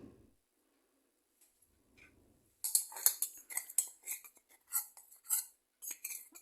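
A spoon stirs gram flour batter for jackfruit fritters in a bowl, a close, rhythmic series of light clinks and scrapes following a brief quiet start.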